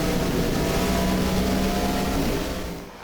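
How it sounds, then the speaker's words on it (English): An ARCA stock race car engine in a sim racing game roars loudly and steadily at high revs, then tapers off near the end; no one speaks. "some of the best sounds in sim racing are coming out of this Arca car"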